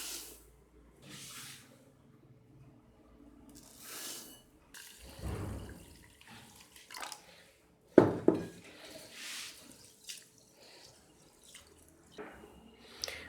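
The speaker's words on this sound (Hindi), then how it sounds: "सबसे पहले चावलों को धो के भिगोते हैं" Two cups of rice are washed in water, with quiet sloshing, dripping and pouring in scattered soft bursts and one sharper splash amid near-silence.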